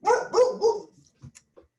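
Dog barking three times in a quick, loud, close burst, followed by a few faint yips and small noises.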